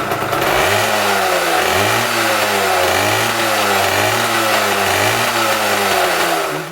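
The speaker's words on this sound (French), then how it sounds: "vous le démarrer pour que vous entendiez un petit peu la moto chanter" A Peugeot SX-8 military motorcycle with a perforated exhaust runs close by, its engine revving in repeated rising and falling surges over a steady rough idle, loud and alone without talk.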